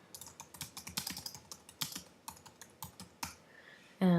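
Uneven bursts of clicking keys on a computer keyboard while a WordPress article is entered, close and crisp with irregular pauses, ending in a louder thump.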